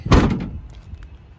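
The manual rear entry door of a 2017 Ford Transit Connect XL wheelchair-accessible van swings shut in one solid, close thud. A faint rattle and quiet settling follow.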